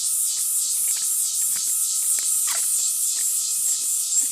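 Cicadas buzzing in the Atlantic Forest at dusk: a loud, continuous high-pitched drone pulsing in a steady rhythm of about three beats per second, with a faint steady tone and light scattered noises beneath it.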